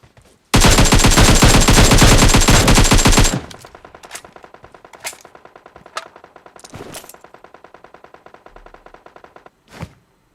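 Gunfire in the game PUBG Mobile: a long, loud burst of rapid automatic fire, followed by quieter distant rhythmic shots and a few scattered louder bangs, with no talking.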